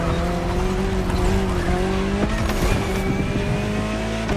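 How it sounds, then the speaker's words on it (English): A Jaguar CX-75 concept hypercar drives in The Crew Motorfest, a loud, sustained engine drone with rising and falling tones and brief tire squeal, close and continuous, without talk. "Jaguar CX-75 concept."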